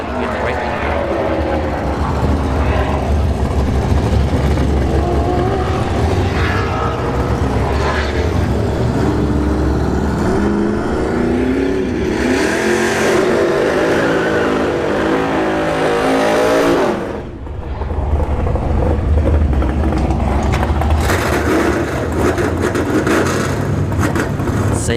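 A 1970s Mustang and a Fox body Mustang race side by side at a test-and-tune drag strip, with engines roaring and revving loudly for a long stretch, rising and falling pitch sweeps, a brief dip, then more roaring.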